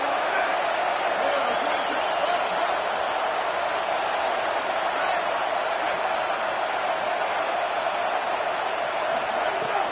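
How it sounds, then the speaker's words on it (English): A loud, steady roar of a large football stadium crowd fills the space continuously, with faint rhythmic ticks above it. "This crowd bringing the energy and noise early."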